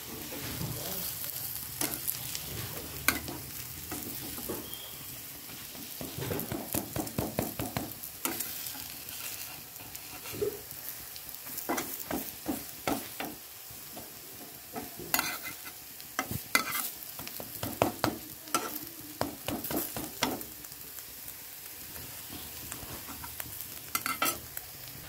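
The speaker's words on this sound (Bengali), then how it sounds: "জিরে ফোড়ন দিয়ে পেঁয়াজটা দিয়ে দিয়েছি।" Onion fries with cumin seeds in a pan as it is stirred, giving a soft constant sizzle punctuated by repeated bursts of scraping and clinking from the spoon against the pan.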